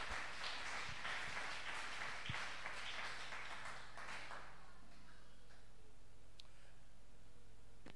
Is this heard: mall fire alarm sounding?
no